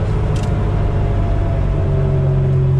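A 1986 Porsche 911 widebody engine drones steadily while driving, a loud low rumble with a constant hum and no clear revving.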